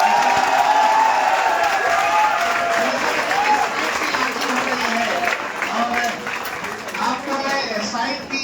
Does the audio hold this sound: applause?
yes